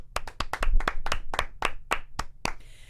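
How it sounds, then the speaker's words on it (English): A single person claps loudly and close by, about a dozen sharp claps at an even pace, slowing toward the end. No voices are heard. "let's give the US of A a good old round of applause for a brownie"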